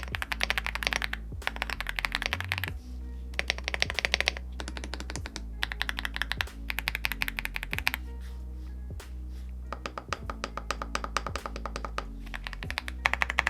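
Typing on an AULA 75 Pro, a 75% mechanical keyboard: bursts of crisp, rapid keystrokes close to the mic, separated by short pauses, with a steady low hum underneath.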